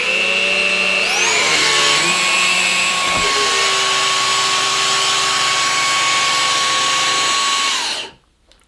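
A Henry Quick vacuum cleaner runs in high suction mode with a loud, steady motor whine that rises in pitch after about a second, holds evenly, then cuts off near the end.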